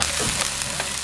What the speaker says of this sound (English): We got the onions in, diced up, stir them around.